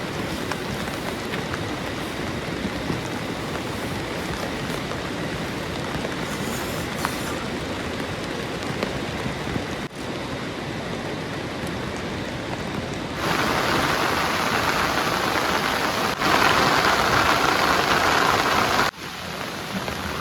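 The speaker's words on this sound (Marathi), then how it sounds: "पाऊस चालू झाला बाहेर" Heavy rain pours outside at night at a reservoir fishing campsite, a continuous dense hiss that intensifies in bursts, with no voices.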